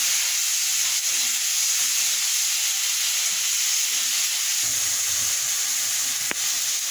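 Tomato fries in hot oil for Bengali aloo dum, a steady, loud, close sizzling hiss with occasional faint stirring knocks and a short clink near the end.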